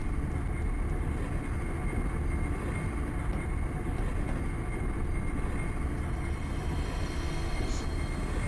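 A train rolling through an underground railway in the video game Half-Life, giving a steady loud rumble with rattling and a faint high squeal.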